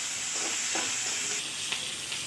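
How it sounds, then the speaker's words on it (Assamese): Onion and chilies fry in a little oil, giving a soft continuous sizzle with a few spoon stirs, close but fairly quiet and without talk. "এইখিনি অকণ ভাজি লৈছোঁ।"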